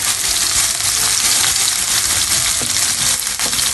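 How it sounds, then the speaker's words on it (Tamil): Garlic and curry leaves sauté in hot oil in a pan, giving a loud, steady sizzle with faint stirring scrapes throughout. "கார்லிக் எல்லாத்தையும் ஒன்றா போடுறோம். கொஞ்ச நேரம் வதங்கணும்."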